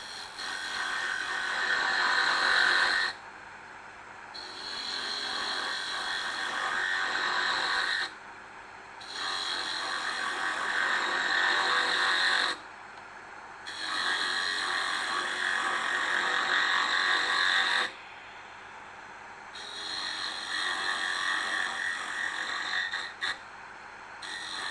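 A lathe gouge cuts a spinning cellulose acetate workpiece with a harsh, scraping hiss in repeated passes of several seconds each, broken by short pauses.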